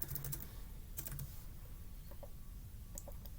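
Quiet keystrokes on a computer keyboard while entering a primer name into an online sequencing order form, a few scattered taps and short bursts over a low steady room hum, with no one speaking.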